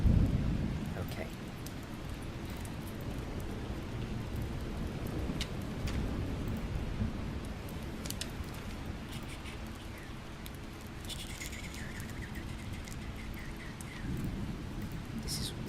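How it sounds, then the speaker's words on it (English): Steady heavy rain ambience with rumbling thunder, a dense low wash running continuously at moderate loudness, with brief crackly high-pitched bursts near the end, likely fireplace or page sounds, layered as a background bed; a faint voice may be present. "Lots of rain, thunder, and fireplace, and some books, flipping some books."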